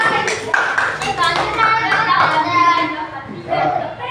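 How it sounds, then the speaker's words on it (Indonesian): Classroom applause for a student group, a short burst of clapping mixed with children's chatter and a voice speaking over it. "Beri tepuk tangan untuk kelompok 3"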